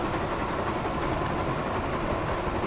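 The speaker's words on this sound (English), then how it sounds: "This is still cool, even if it is just me driving a train." A train runs in a Thomas & Friends video game with a steady, dense rumble of engine and rolling wheels, constant in level and close, with no talk.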